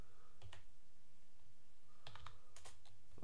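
Computer keyboard typing in short bursts of clicking keystrokes, close and fairly quiet, with a pause in the middle.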